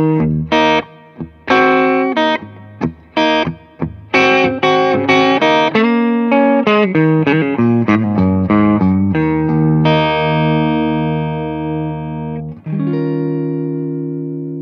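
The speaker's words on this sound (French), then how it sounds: "L'ampli intègre une réverbe numérique qu'on va écouter tout de suite." An electric guitar through an amp with built-in digital reverb plays a run of plucked notes and chords, starting choppy and speeding into a flowing line, then ringing out into long reverb tails, loud and close.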